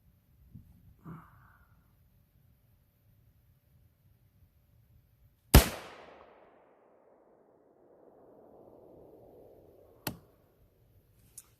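A Sanders Armory 13-inch 6.5 Grendel pistol fires one loud, sharp shot that rings out and fades over a few seconds, followed later by a second crack, with faint handling noises and breathing between.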